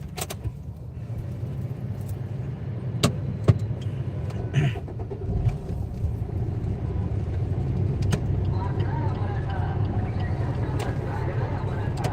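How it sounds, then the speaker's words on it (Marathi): A car in a political convoy pulls away outdoors, its engine a low steady rumble that slowly builds, with a few sharp clicks and knocks nearby and faint voices of a crowd around it. "जरांगी पाटलांची गाडी पुढे गेलेली आहे"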